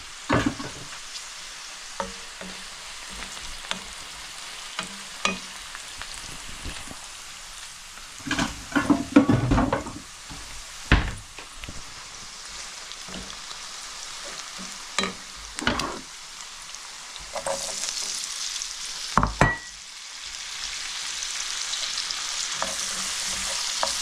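Browned onion with turmeric and potato frying in a home-kitchen pan for a samosa filling, giving a steady close sizzle. Clattering stirs and scrapes of a spoon against the pan break through repeatedly.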